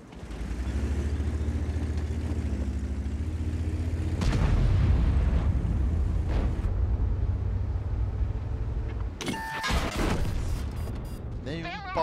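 Tank cannon fire in a tank battle video game, with heavy booming shots and crashing impacts over a constant engine rumble, while a player talks excitedly throughout.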